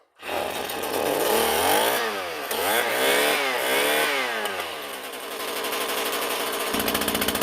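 A Husqvarna 323L string trimmer's small two-stroke engine runs close by, revving up and down in rising and falling sweeps before dropping into a steady buzzing idle, with no talking.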